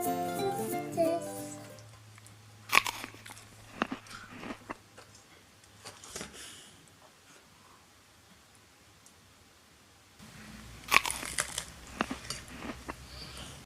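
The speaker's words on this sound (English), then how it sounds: "I can start eating." Homemade pizza being bitten and chewed up close, with sharp crunchy bites and wet chewing in irregular bursts, quieter in the middle and busier again near the end; a brief voice sounds at the very start.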